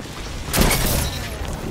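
A shotgun fires in the Destiny 2 video game as a single loud, boomy blast that decays quickly, standing alone over a background of game ambience.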